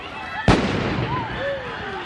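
A firework thrown at police during a riot bursts with one sharp, loud bang, followed by crackling and a fading whistle, amid distant crowd noise.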